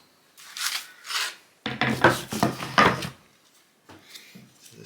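Sandpaper scrubs surface rust off a vintage steel chisel in short rasping bursts: two strokes, a quick run of several more, then a pause and a fainter final few.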